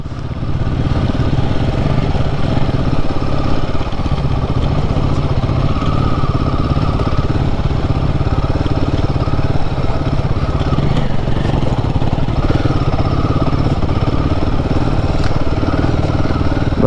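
Royal Enfield Himalayan 450 motorcycle being ridden off-road, a loud, continuous engine drone with steady rumble and rattle, heard close and unbroken from start to finish.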